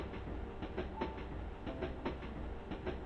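Train wheels clattering over rail joints in a steady clickety-clack rhythm, heard from inside a carriage as a soft, even rumble with regular faint clicks and no voices.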